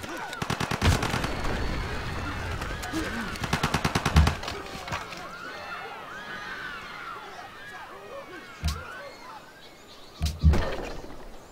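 Game gunfire and artillery from a city attack in Civilization 5, arriving as rapid rattling bursts early on, then scattered heavy booms later, all close and loud over a continuous bed of battle noise.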